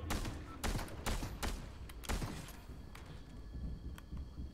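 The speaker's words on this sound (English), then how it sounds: "Who's shooting?" Gunshots in the video game Fortnite, a string of sharp cracks spaced irregularly over a few seconds, moderately near and punchy against a low background rumble.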